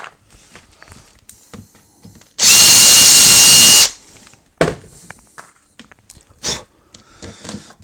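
A power drill whirs loudly in one steady burst of about a second and a half while drilling acrylic, with quieter clanks and handling noises before and after.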